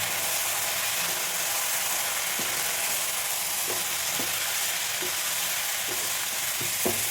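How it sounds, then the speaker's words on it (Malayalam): Masala paste with coriander powder and garam masala roasts in a pan for a jackfruit seed curry, hissing steadily while a spatula scrapes and knocks against the pan every second or so. "അരപ്പൊക്കെ ഒന്ന് മൂത്ത് വരട്ടെ."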